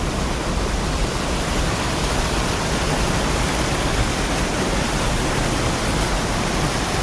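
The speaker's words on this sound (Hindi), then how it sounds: "पानी बहुत पानी तेज है, बहुत तेज़ है" Fast, heavy river water rushes beneath a bridge after 24 hours of heavy rainfall near Ramgarh, Nainital, in Uttarakhand, a loud, steady, dense roar that fills the whole clip without letup.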